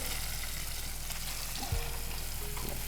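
Butter sizzling in a pan with salmon, giving a steady, dense frying hiss throughout with a brief clunk near the middle. The sound is close and continuous, with no talk.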